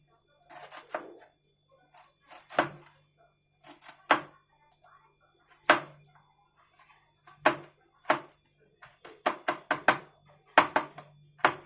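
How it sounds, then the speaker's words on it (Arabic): A knife cuts three onions in a home kitchen, making sparse, sharp taps at an uneven pace that speed up into quicker clusters toward the end, close and fairly quiet. "ومعايا 3 بصلات كده هقطعهم"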